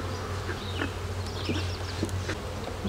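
Honeybees in a beehive, a close, steady buzz with individual bees whining past in short rising and falling tones, alone without talk.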